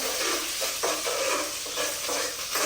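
Food cooking in ghee in a pan gets stirred, a loud continuous sizzle broken by several scraping strokes of a spoon against the pan, close up and free of speech.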